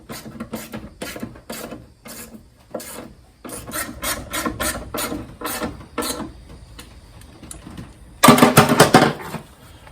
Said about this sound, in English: go ahead and tighten the 4 regulator bolts down, because those are not adjustable